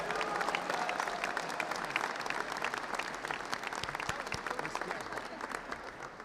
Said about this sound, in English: Hey, two big rounds of applause